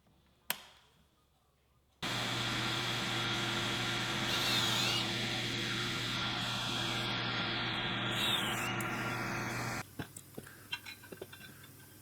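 A new shop vacuum hooked to a pocket hole jig kicks on after a sharp knock and roars steadily up close for about eight seconds, then cuts off, leaving scattered workshop clatter.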